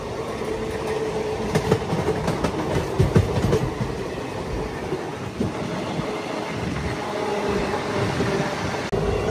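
MEMU local train passing, a continuous rumble with rhythmic clickety-clack of wheels over rail joints, steady and fairly close throughout, no talk.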